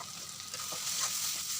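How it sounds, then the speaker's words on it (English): Ginger garlic paste with turmeric, chili and coriander powder fries in a pan for a jackfruit potato curry, giving a steady, close hiss and sizzle with faint stirring scrapes throughout. "Now I'm adding ginger garlic paste. Along with that, turmeric powder, chili powder, and coriander powder."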